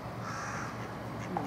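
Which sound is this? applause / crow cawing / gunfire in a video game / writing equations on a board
crow cawing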